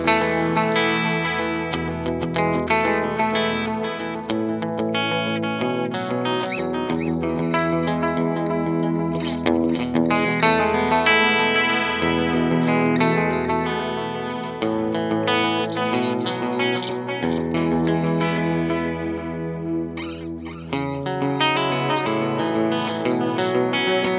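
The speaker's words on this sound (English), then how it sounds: "the Alter Ego's got a kind of a chorusy sound to it" TC Electronic Alter Ego X4 delay pedal set to its Space Echo mode, with dense repeating echoes and a slightly chorused shimmer trailing a continuous played instrument line throughout.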